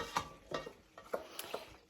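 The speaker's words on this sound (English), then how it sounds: "That is Bonnie drinking." Close, soft lapping from Bonnie the pet drinking water from a bowl, a quick run of small wet splashy laps in an uneven rhythm, quiet and alone.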